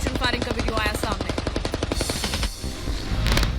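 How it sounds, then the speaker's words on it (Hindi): Heavy gunfire in a street battle between Ukrainian soldiers and Chechen fighters in Mariupol: loud, rapid automatic bursts in tight rhythmic strings, overlapping single shots and echoing cracks, continuous and close throughout. "यूक्रेनी सैनिकों और चेचन्य लड़ाकों के बीच भीषण फायरिंग का वीडियो आया सामने।"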